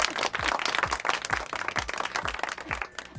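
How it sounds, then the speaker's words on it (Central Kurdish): A group of villagers claps together in a burst of applause, with quick overlapping hand claps at a fairly close, moderate level. "هەر بشین یەک چەپڵەی بەهێز بۆ خۆتان"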